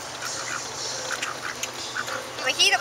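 Ducks by a lake give several short quacks, rising to a louder burst near the end, amid outdoor ambience and faint voices.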